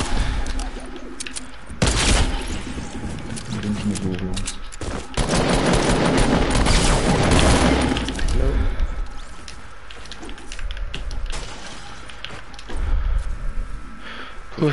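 Rapid bursts of gunfire from a shooter video game, several loud clustered volleys spread across the span with quieter gaps between, over game background sounds.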